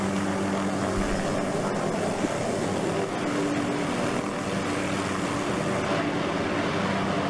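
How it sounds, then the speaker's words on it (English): Steady, loud helicopter engine drone with rotor thrum in the video game DayZ, continuous and unchanging throughout, no talking. "Just driving the helicopter down the road."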